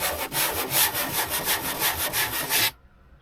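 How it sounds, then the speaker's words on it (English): A small sander with 120-grit paper rubs across wood in rapid rhythmic back-and-forth strokes, loud and close, then stops abruptly. "What I did find in a box in here is a little sander"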